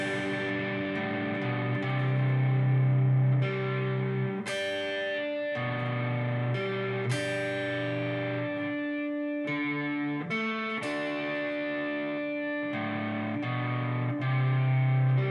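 Distorted electric guitar plays a chorus at slow speed, sustained chords and ringing notes in a loose, deliberate rhythm, loud and alone without voices.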